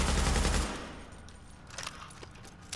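An automatic weapon fires in Tom Clancy's The Division: a loud, dense burst for about half a second, then it cuts off, leaving a quieter tail with a few faint scattered shots or impacts.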